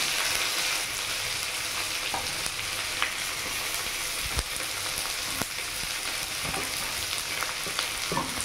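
Chopped onions fry in hot oil in a pan for a lotte fish curry, giving a loud, constant close sizzle with occasional soft clicks of a spatula and no talking.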